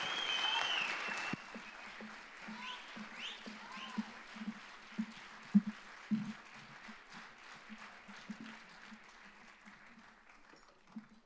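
Audience applause welcoming a band at a concert in Socorro, a dense burst of clapping that thins into scattered claps and a few cheers over several seconds.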